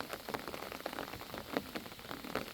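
Heavy rain pours steadily onto a surface, a dense, continuous patter with scattered louder drops, fairly quiet and with no voices.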